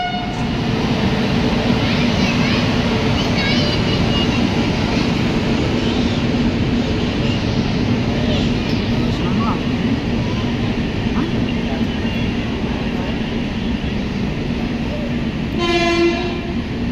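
A loud, steady rumble of the Bhubaneswar–Yesvantpur AC Special Express rolling close by as it enters Gooty Junction station, with a horn sounding near the end.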